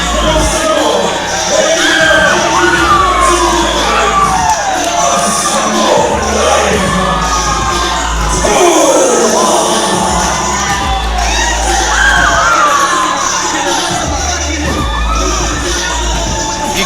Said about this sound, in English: Can I get a cheer? You certainly can.